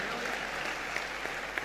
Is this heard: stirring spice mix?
no